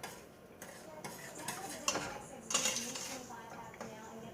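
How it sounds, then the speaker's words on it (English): A spoon stirs butter and sugar melting together in a pot for pecan candy, giving faint clinks and scrapes against the metal at an irregular pace, quiet and close with no voices. "while the butter is melting into the sugar, I'm just going to constantly stir, stir"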